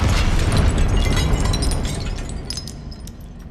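A Confringo explosive spell detonates in the Hogwarts Legacy video game, a loud booming blast that hits at once and rumbles away over a few seconds.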